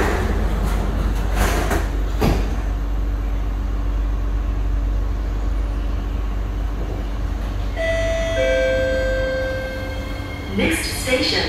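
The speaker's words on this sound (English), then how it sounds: "Doors are closing." An SMRT C151B train on the line to Toa Payoh is heard as its doors close: a steady rumbling cabin hum, a few thumps, then a sustained multi-tone door chime before the train moves off.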